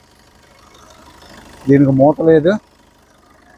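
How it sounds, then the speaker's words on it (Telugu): A 2017 Maruti Brezza ZDI diesel engine idles as a steady, low background hum, while someone speaks briefly and close by over it. "engine smooth running sir"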